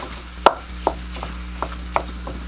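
A spatula chops browning hamburger meat in a pan for chili, five or six sharp taps spaced unevenly over a faint steady background hum, close by with no talk.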